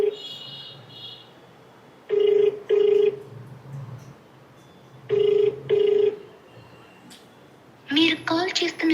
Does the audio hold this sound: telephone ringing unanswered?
yes